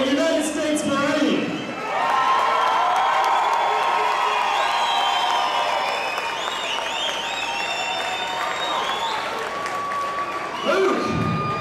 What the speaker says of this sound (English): let's give a round of applause to Mark Monroe, who is also a United States Marine